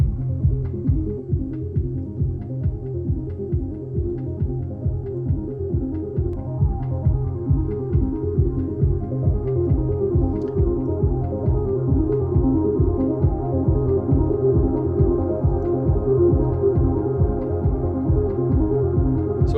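Modular synthesizer patch with notes added and changed one at a time, a dense low pulsing sequence that repeats steadily and evenly throughout, loud and close, no talk.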